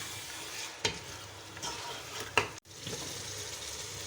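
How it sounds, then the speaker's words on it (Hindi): Mutton fried with ginger garlic paste for lauki gosht makes a soft, close sizzle in the pan, punctuated by two sharp spatula scrapes and a brief cut-out near the end, with no talking. "गोश्त के साथ ही 1 बड़ा खाने का चम्मच लहसुन अदरक का पेस्ट शामिल कर देंगे। इसको भी हम अच्छी तरह गोश्त के साथ ही फ्राई कर लेंगे।"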